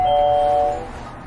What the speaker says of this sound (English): That's the loudest doorbell I've rang in a minute.